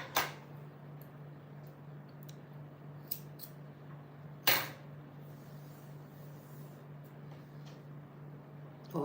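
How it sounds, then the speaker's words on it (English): Scissors snipping a crochet yarn tail, a few faint isolated clicks and one sharper snip midway, over a low steady hum in a quiet room. "So you can just cut this yarn tail."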